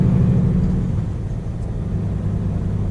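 Truck pulling a trailer through quiet Stockholm city streets at Huddinge Centrum, a low steady engine rumble heard from the cab, continuous and moderately loud with no talking.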